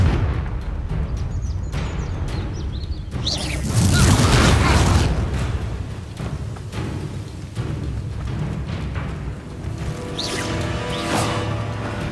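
Confringo fire-blast spells going off in the video game Hogwarts Legacy, dense booming explosions and crackling bursts over a constant roar of game sound, peaking heavily around the middle, with no voices.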